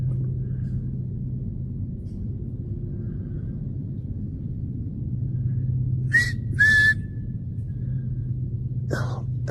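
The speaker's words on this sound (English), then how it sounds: "that whistle just sent out an SOS to every creepy dude in a 5-mile radius" Three short, shrill whistle blasts sound on a camping trail outdoors, two close together and one a few seconds later, after a quiet stretch of low rumbling background.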